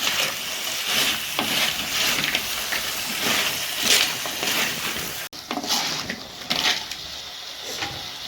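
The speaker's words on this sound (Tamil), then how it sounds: "தக்காளி நல்லா வதங்கிடுச்சு. அதில் நம்ம நண்டை சேர்த்துக்கலாம்." Crab tossed into softened tomato masala sizzles and hisses steadily in a hot pan, a dense, continuous frying crackle with occasional stirring scrapes and no voices.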